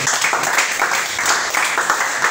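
Congregation applauding together at a Sunday church service, steady loud clapping from a full room sustained for a couple of seconds without pause.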